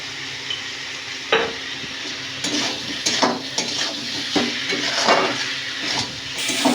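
Mixed ingredients sizzle and fry in a pan on a home stove, with steady crackling broken by repeated clanks and scrapes of a spatula stirring against the metal.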